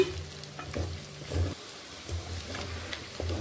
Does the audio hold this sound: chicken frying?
yes